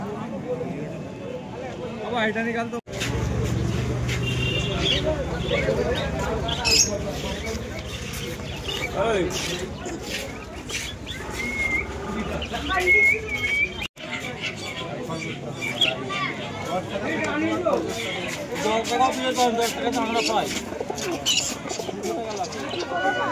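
Pigeons coo and flutter at the busy Saranga pigeon market in Howrah, their soft throaty calls mixed with steady crowd chatter and people talking nearby.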